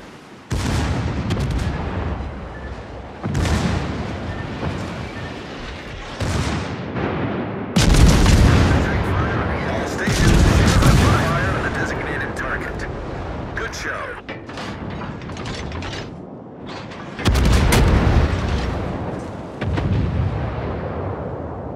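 Warship main guns fire in the naval battle game World of Warships: a series of deep, booming salvos with heavy rumbling tails and mechanical clanks, several blasts spread across the passage, with radio-style voice callouts in between.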